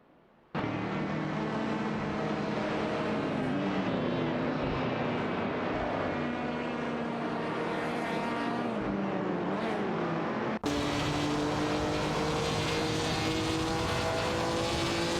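Ford Mustang GT and Chevrolet race cars dueling in a racing video game, a continuous loud engine roar with shifting pitch that cuts abruptly to another engine tone partway through, no voices.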